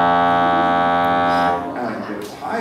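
Accordion holding a sustained low chord with a dense stack of steady reedy harmonics for about a second and a half, then fading into a softer, murkier tail with a brief higher swell near the end.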